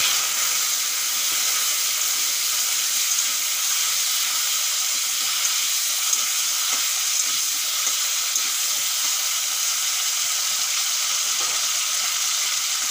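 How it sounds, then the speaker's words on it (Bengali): Potatoes coated in turmeric and salt fry in mustard oil in a wok, giving a steady, dense sizzle and hiss that holds at an even level throughout with no voices. "আলুগুলো ভালো করে ভেজে নেব।"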